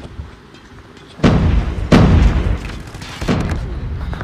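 Deep booming blasts from a grenade in the Call of Duty Mobile shooter game, three heavy thuds in a few seconds with rumbling decay, the first two loud and close, the last softer.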